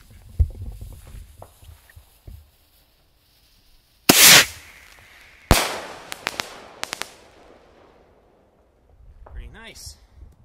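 Firework rockets burst, one loud crack then another followed by scattered pops and crackles, with quiet rustling and a faint voice between.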